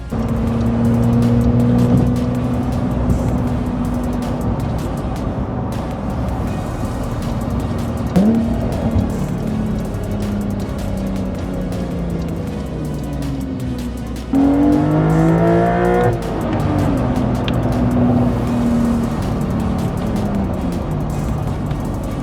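A turbocharged Porsche 911 GTS engine roars and revs hard toward 7,500 rpm, rising and falling in pitch through gear changes, loud and close with a passing whoosh.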